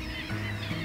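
Birds calling at spring sunrise outdoors, honking, goose-like calls over steady open-air background sound, moderately loud and continuous through a brief moment.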